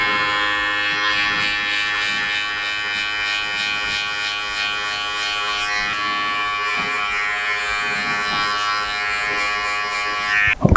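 Barber clippers buzz steadily and close while cutting afro hair for a low skin fade, a continuous bright electric hum lasting throughout with slight shifts as the blade moves and no talk.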